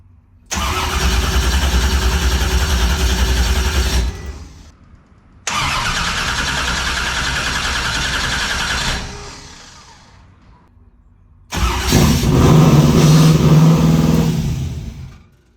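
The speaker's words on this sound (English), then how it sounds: "I'm gonna try to get this first start in." A twin-turbo LS engine fires up for the first time, running loud in three bursts: a roaring start that holds several seconds, a second steady run that fades out, then a final hard rev before cutting off.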